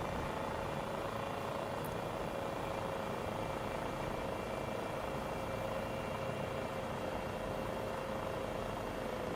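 A helicopter in Microsoft Flight Simulator 2024 makes a running takeoff, its engine and rotor giving a steady, continuous drone with a constant whine riding above a dense low rumble throughout.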